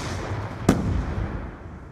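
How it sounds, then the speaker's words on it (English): In Call of Duty: Black Ops 2 gameplay, a concussion grenade goes off with one sharp, loud burst that rings out briefly over steady game background noise and no talking. "Concussion out! Throwing grenade!"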